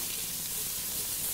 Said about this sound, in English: Nice bit of sizzle.